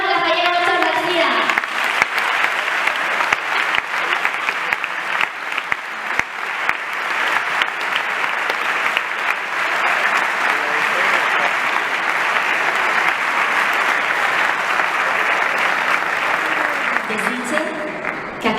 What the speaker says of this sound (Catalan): Demane un fort aplaudiment per a la Cos d'Honor de la Fallera Matxos d'Alzira.